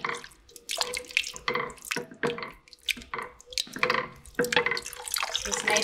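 Clam juice poured slowly into a pot of thick clam chowder, a soft continuous liquid splashing and trickling, close and fairly quiet, with no talk.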